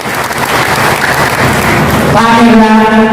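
Audience at a Pemuda Batak Bersatu national meeting applauds loudly for about two seconds, then a voice carries on over the fading clapping.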